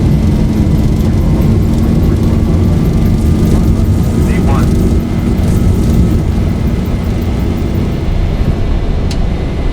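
Boeing 737-800 engines spooling to takeoff thrust in the X-Plane flight simulator, a loud, steady broadband roar with a low rumble filling the whole span, with a voice talking over it.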